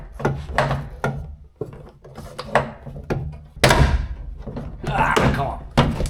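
Irregular plastic thunks, creaks and scraping as a car door card panel is pried loose from a Y2K-era tuner car, with a voice now and then between the knocks.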